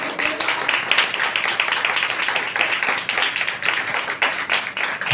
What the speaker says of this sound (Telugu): చప్పట్లు కొడతారు గట్టిగా మరి.